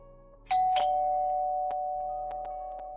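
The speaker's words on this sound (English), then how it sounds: "Gotta ring the bell" An electronic doorbell rings: one clear chime tone that rings on and slowly decays, with a couple of short clicks or taps and a faint low background hum.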